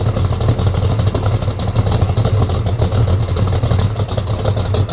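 A 1969 Chevelle SS V8 with an exhaust leak runs at a loud, choppy idle that lumps unevenly and rumbles up close. It keeps going steadily with no speech over it.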